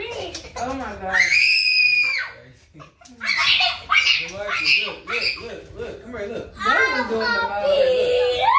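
A young child screams and squeals in high, piercing bursts at close range, mixed with excited child chatter and an adult voice talking indoors while LED lights are being set up.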